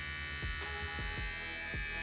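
Manscaped Lawn Mower 4.0 electric body trimmer running with a steady, even buzzing hum, joined by a few soft low bumps from handling, close and alone with no talking.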